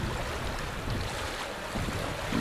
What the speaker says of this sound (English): Water's running quite high today, high and fast.